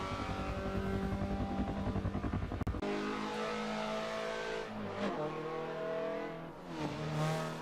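A Mazda race car's engine in a racing video game revs hard and aggressively, rising and falling through gear changes with a loud, continuous roar and a brief dip midway.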